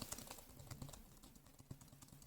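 Keys clicking on a Samsung Tab S8 keyboard cover, recorded close up: quick, light tapping in an uneven rhythm, crisp and near with no voices.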